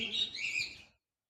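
A big male red factor sun conure parrot gives a brief, shrill, raspy call that lasts under a second and is close and clear, followed by silence.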